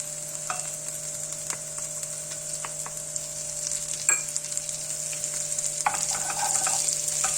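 Steady sizzling of peppers frying in butter in a pan with a few scraping stirs, close and continuous throughout.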